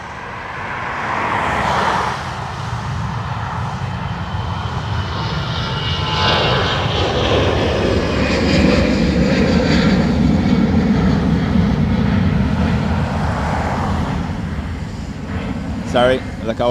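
A fixed-wing airliner turns off the runway at Dublin Airport with a loud, steady engine roar that swells and holds close by, while a person talks over it.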